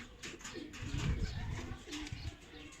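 Tumbler pigeons coo nearby in soft, repeated throaty calls, with a few faint chirps and light rustling around them.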